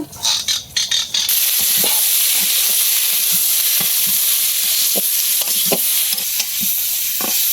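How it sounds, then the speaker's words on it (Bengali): Raw jackfruit with turmeric and salt frying in oil, some clattery tumbling into the pan, then a steady close sizzle with repeated scraping and stirring knocks. "হলুদ আর লবণ দিয়ে এখন একটু তেলে ভেজে নিতেছি"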